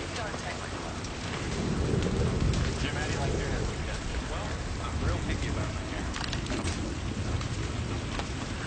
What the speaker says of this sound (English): How about the rain on the roof?